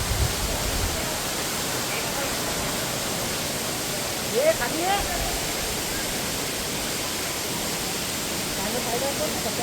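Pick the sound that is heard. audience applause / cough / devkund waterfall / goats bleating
devkund waterfall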